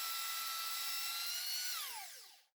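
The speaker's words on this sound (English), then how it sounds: "a rough sanding with this belt sander to remove the surface rust" A steady, high-pitched grinding whine of a belt sander removing surface rust from a mezzaluna blade, running loud and continuous before winding down and fading out at the end.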